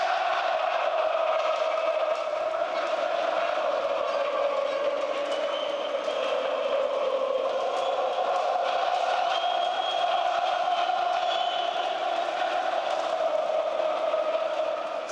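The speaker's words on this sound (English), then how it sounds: "to see this passion from people shouting, screaming, that, I mean, it's amazing" A large arena crowd at a CS:GO esports semifinal in Belo Horizonte roars steadily, a dense sustained wash of shouting and cheering that holds at full volume throughout with no pauses.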